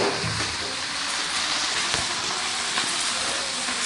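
Okra (bhindi) frying in a pan gives a steady, loud, close sizzling hiss that continues evenly throughout without pause.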